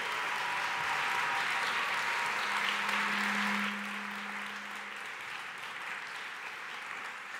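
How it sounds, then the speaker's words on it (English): Audience applause welcoming a speaker at a science event, a broad, dense wash of clapping that holds steady and then eases slightly softer. "a very massive applause"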